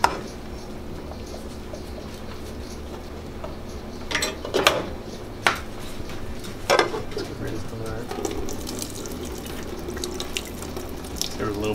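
Liquid pours steadily into a kitchen sink during a huge biscuits-and-gravy eating challenge, a continuous running-water wash broken by a few sharp clinks and knocks, with faint birdsong in the background.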